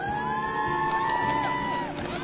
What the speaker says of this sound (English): Sounds like they've got their own cheering section here.